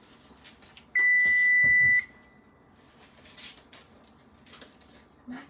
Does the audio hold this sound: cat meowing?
no